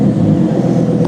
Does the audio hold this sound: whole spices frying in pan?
no